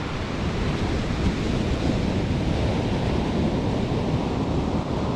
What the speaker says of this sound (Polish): raz na jakiś czas jak przyjdzie coś dużego, to jest huk jak lawina